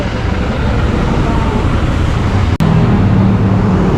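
Steady road traffic with car and engine noise on a busy street, a continuous broadband rumble that holds at one level, with a brief sharp dropout near the end.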